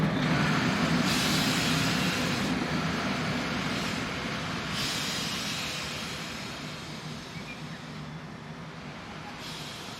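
A Class 2016 diesel locomotive passes on the line toward Bad Radkersburg. Its steady, low rumble is heard from a moderate distance and slowly fades as the train moves away.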